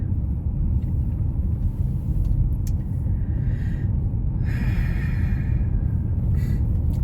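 A Honda Odyssey minivan reverses into a driveway, its engine a low steady rumble heard from inside the cabin, with faint hissing and brief higher sounds over the drone.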